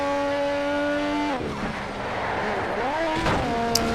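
A race car in Need for Speed: Shift 2 Unleashed holds a steady high engine whine, then drops and swoops through a drift corner with pitch dipping and climbing again, alone without talk.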